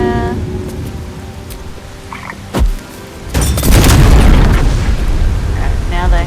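A fiery blast booms in the fantasy video game Baldur's Gate 3 when alchemist's fire is thrown, followed by a loud, sustained crackling roar of flames over the game's ambient sound, with a voice heard briefly.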